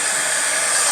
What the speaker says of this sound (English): let's see if I have my heat gun plugged in